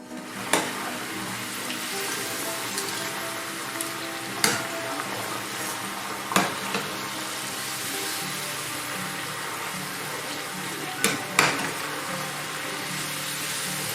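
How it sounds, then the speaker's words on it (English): Steady crackling sizzle of fries frying in hot oil, fairly loud and continuous, with a few sharp clicks and taps scattered throughout. "Here's some lovely frying sounds set to yet another royalty-free track."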